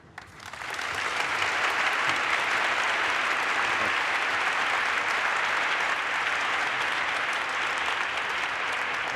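Sustained audience applause welcoming Norwegian Prime Minister Erna Solberg at a world leaders forum, steady broad clapping from a large crowd, starting quickly and holding evenly throughout.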